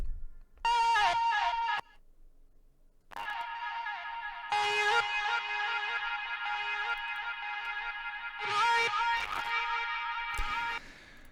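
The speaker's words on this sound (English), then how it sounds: "and then I forgot about this vocal chop." Chopped vocal sample in an electronic track, bursts of processed, bleating vocal syllables and a sustained warped vocal tone, stuttered and cut abruptly, with short gaps between phrases.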